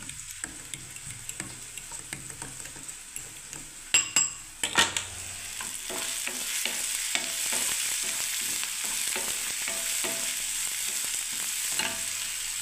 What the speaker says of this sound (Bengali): আমি এই মশলাটাকে একটু কষতে থাকবো